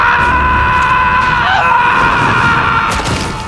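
Zombie-apocalypse screams from outside, a loud sustained wailing cry with strained tonal layers, dense and continuous throughout.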